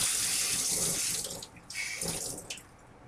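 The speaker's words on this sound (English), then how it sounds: "Rinse my ruler off quick." Tap water runs hard into a sink as a ruler is rinsed beneath it, a loud, close splashing rush that dips briefly once before flowing on.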